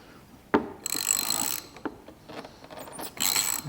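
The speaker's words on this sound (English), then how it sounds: "I've got a 9mm socket on a ratchet like so" A ratchet fitted with a 9mm socket loosens the top bolt of a car shock absorber, giving two bursts of rapid clicking, each lasting under a second, with a sharp metallic knock beforehand and small taps between them, close and fairly loud.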